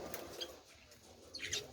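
A pet bird gives faint, brief calls in a room, with a soft chirp early on and a brighter cluster of chirps near the end over low background noise.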